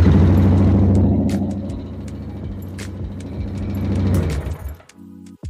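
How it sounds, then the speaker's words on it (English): A Honda Rancher 420 ATV engine runs with its valve covers removed after a valve adjustment, making a steady, close, low putter that slightly rises and falls before cutting out near the end. "I'm just going to start the bike just to check it so we don't have to tear it down again"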